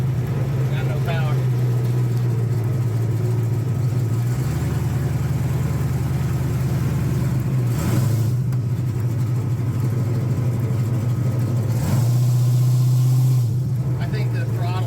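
A 1940 Ford engine with a four-barrel carburetor and a slipping throttle cable runs loud and close, droning with uneven surges that falter and drop away, while people talk over it.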